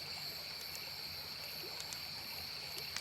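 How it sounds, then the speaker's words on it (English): River water runs and laps softly against the banks at an evening riverside, a faint, steady babbling wash with thin high tones ringing above it. "the sweet babble of running water lapping against the banks"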